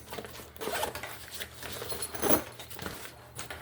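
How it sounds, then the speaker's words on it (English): Zipper on the U-shaped top pocket of a Mystery Ranch backpack being worked, a run of close, soft scratchy zipping strokes with a louder pull near the middle, heard alone. "the top pocket is just a single pocket with like a U-shaped zipper"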